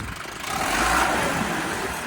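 A Massey tractor engine idles in neutral, a steady even rumble close by that swells slightly midway, with no voices.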